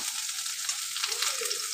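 Cauliflower and potato pieces frying in hot oil in a kadai give a steady, close, bright sizzle that holds evenly throughout, with no voices.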